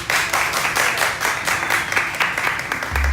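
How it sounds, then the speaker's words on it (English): An audience at the Miami Book Fair applauds an author with steady, dense clapping that fills the hall throughout. "please give a round of applause to Marjuan Kennedy"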